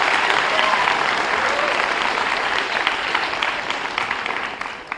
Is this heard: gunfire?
no